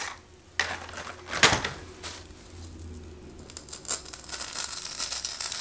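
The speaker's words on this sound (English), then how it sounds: "I know some people don't like the sound of styrofoam and stuff like that" Styrofoam being cut or broken by hand gives off a series of scratchy squeaks, crunches and crackles, with a sharp snap early on and irregular rustling that continues throughout.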